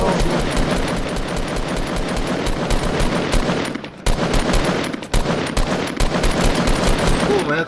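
Rapid automatic gunfire rattles in long, dense bursts during a Fortnite squad match, loud and continuous with a couple of brief breaks.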